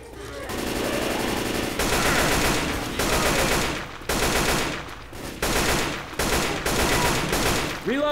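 Sustained automatic gunfire in Left 4 Dead 2, loud dense bursts of rapid shots separated by brief pauses, repeating across the whole stretch with no talking.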